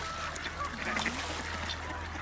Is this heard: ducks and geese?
yes